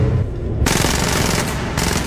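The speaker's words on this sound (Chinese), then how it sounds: "V 趁机开枪干掉守卫。" Gunfire in a sci-fi action movie fight aboard a high-speed train: after a quiet start, a dense, loud burst of rapid shots and impacts runs continuously over the rest of the clip.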